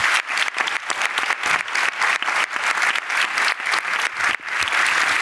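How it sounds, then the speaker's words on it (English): An audience at a talk on the James Webb Space Telescope applauds Hervé with dense, sustained clapping that fills the room at close range, loud and unbroken with no voices over it. "So I really applaud to Hervé."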